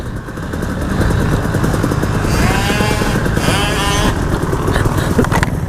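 A KTM 300 two-stroke dirt bike racing in an enduro hare scramble, its engine loud and close, rising and falling through revs and gear changes without a break, with voices faintly underneath.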